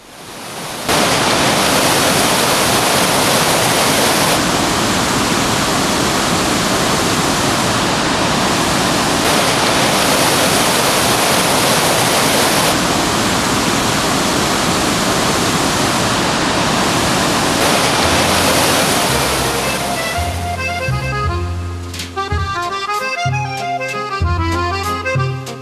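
The Rhine Falls waterfall at Schaffhausen roars as a loud, dense, continuous broadband rush for about twenty seconds, then fades out under a stretch of music.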